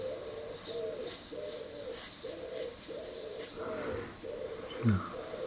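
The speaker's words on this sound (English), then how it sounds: "Pigeons are out again." Pigeons coo in a steady repeating rhythm of low, soft, throaty calls, moderately close, over a constant airy hiss, with a brief thump near the end.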